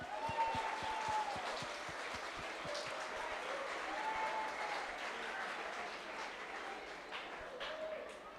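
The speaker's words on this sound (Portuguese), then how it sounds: "Aplauda o Senhor." Church congregation applauding in praise at a Portuguese-language service, a steady wash of clapping across the whole stretch, with faint tonal sounds drifting over it.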